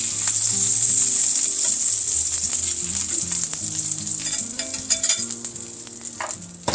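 Scallops sear and sizzle in a hot pan for a crust, a steady bright frying hiss with occasional spits and pops, close and continuous, no talking.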